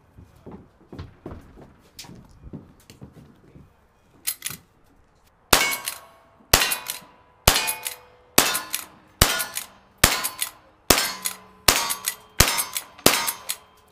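Pistol shots ring out on a shooting stage, each crack followed by a bright metallic clang off steel targets; after a few faint pops, about a dozen loud, evenly spaced shots and hits follow, near and without talk.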